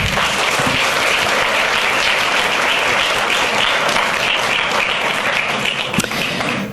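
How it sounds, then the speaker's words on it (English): Graduation audience of graduates, parents and families at a commencement, loud continuous applause from a large crowd, dense and even throughout with a few sharper claps standing out near the end. "give each other a round of applause, please"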